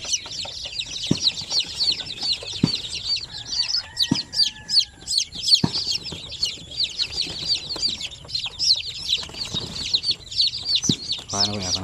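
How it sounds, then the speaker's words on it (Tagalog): Newly hatched chicks peep constantly in a dense, high chorus close by, with a few hen clucks and low knocks underneath and brief voices in the background. "So ito yung mga bagong hatch natin"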